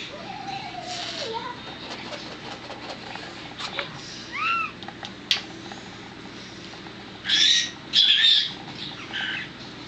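A newborn miniature dachshund puppy makes wet, gurgly squeaks and mews in several short bursts, the strongest near the end, close to the listener against a soft background hum.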